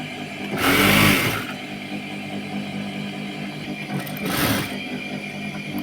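A sewing machine stitches a petticoat in two loud whirring bursts, about a second each and a few seconds apart, with a low mechanical hum running between them.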